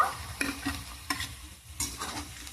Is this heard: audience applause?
no